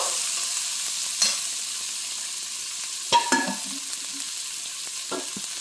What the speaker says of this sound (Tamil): நல்லா வதக்குறேன் பாருங்கள்